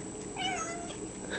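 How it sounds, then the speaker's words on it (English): Cat gives a single drawn-out meow, close and clear over a steady background hum, with no voices over it. "Silly cat."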